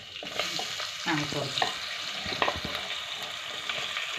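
Chicken frying in oil in a pot for chicken kurma, a steady sizzle with scraping stirring strokes and a few knocks against the pot, close and moderately loud.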